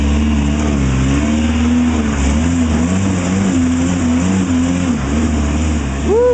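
Rock crawler with a 413 big block engine revving up and down in loud, continuous throaty bursts, close by and steady throughout with no talk.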